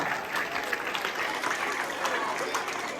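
A crowd of schoolchildren and adults bursts into dense, continuous applause at a mind-reading magic show, loud and close throughout with voices mixed in.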